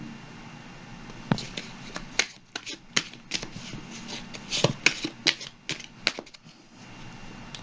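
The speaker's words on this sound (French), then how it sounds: "On va piger une autre carte de mon horoscope de Béline." Tarot cards are shuffled and handled close by, giving a string of sharp, uneven riffles and slaps over a faint background.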